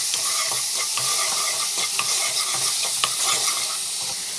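Ground onion paste stirred and sautéed in a pan, a dense close sizzle with a rhythmic series of spoon scrapes and soft knocks and no talking.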